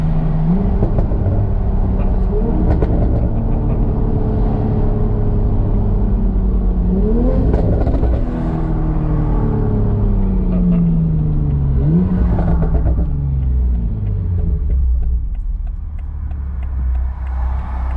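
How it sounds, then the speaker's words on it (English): A tuned Supra's loud engine rising and falling through gears from inside the cabin, with repeated revving sweeps, turbo sounds and a throaty exhaust drone throughout. "The exhaust is not loud. It sounds really good."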